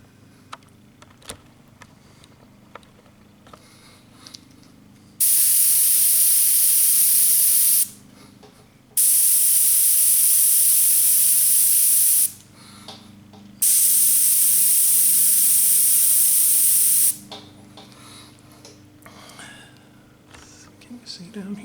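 Airbrush spraying paint onto a 1977 Camaro with paint defects, three loud, steady hissing bursts of several seconds each, separated by short pauses, with a quiet voice talking in the gaps.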